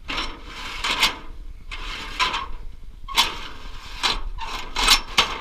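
Aluminum extension ladder being extended, heard as a series of scraping, rattling slides in separate pulls, close and moderately loud, with no talking.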